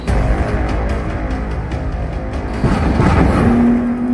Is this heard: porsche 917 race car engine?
yes